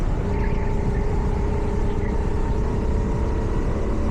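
KF1 racing kart driving a time trial lap at KF1 Singapore, heard onboard as a loud, steady, buzzing engine drone with constant wind rush, near and continuous, without speech.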